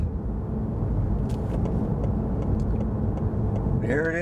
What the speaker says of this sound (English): I'm going to let this car pass off on the left.